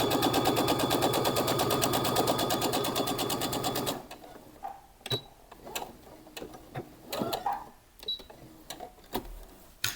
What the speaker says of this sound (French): je vais reprendre de là où je m'étais arrêtée avec ma couture et je vais tout simplement faire de l'autre côté maintenant ma couture